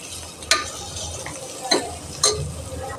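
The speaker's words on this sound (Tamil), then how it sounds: "இப்போது நல்லா வதக்கி விட்டுக்கலாம்." Chicken curry masala with turmeric being stirred and sautéed in a pan, with three sharp scraping strokes of a spoon against the metal over a steady soft sizzle.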